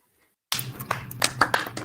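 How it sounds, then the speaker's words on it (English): Applause at an online space-science conference starts abruptly after a near-silent moment, a small scattered round of claps that sound close to the microphone and moderately loud. "A big round of applause."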